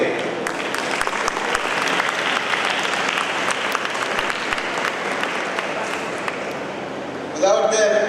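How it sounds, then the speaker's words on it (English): Steady audience applause at a college graduation day ceremony, dense clapping from a large crowd held at even strength for several seconds before a voice comes in near the end. "give a big round of applause for the parents out here today"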